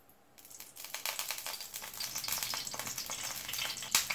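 Two spoons of oil in a kadhai on a gas stove break into a loud, crackling sizzle that starts almost at once and keeps popping steadily, up close, with no talking.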